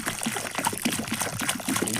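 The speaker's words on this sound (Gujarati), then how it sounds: "આંબાને પાણી પણ વેડી દીધું." Water poured at the base of a mango tree splashes and trickles close by in a brief, uneven, gurgling flow.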